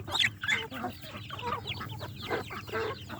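Chickens and young chicks cluck busily while pecking at broken grain on a poultry farm, a dense, close chorus of short overlapping clucks and peeps with no talk.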